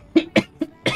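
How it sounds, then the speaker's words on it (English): Four sharp, close coughs in quick succession from a commentator turned slightly away from the microphone, each a brief harsh burst, the last one longer. "Oh god, I'm going to start coughing now, hang on."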